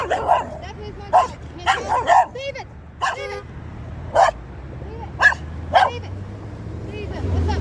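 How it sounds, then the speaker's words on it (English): A dog barks in short, sharp bursts, about nine loud barks spread unevenly with brief pauses, at an outdoor craft sale in a park, with low background rumble. "Is that your dog?"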